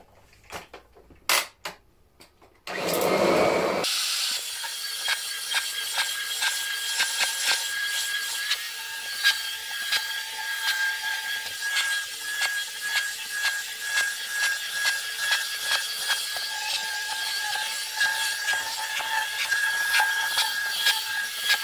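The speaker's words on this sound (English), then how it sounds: "just how effective this vacuum is at lifting pet hair" A vacuum cleaner runs steadily over a urine-soaked rug, lifting pet hair, with a rough, whirring drone for most of the clip, preceded by a few brief knocks and bumps.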